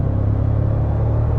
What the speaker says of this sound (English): Just giving it half throttle, you get a really nice surge of power